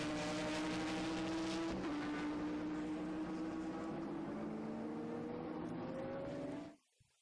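A Lamborghini GTC race car driving at the Brno circuit. Its engine holds a loud, steady note, with a brief gear-change dip partway through, then rises in pitch and cuts off abruptly near the end.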